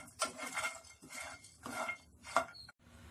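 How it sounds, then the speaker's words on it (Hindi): Almonds, cashews, cardamom, cloves and black peppercorns being dry roasted in a pan over high flame: a series of dry rattling scrapes and clatters in short bursts, close and fairly loud, with no talking. "हाई फ्लेम पे हम इन इंग्रेडिएंट्स को भून लेते हैं"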